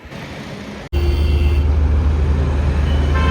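Steady highway traffic rushes past nearby as a continuous loud roar, with a brief dropout near the start.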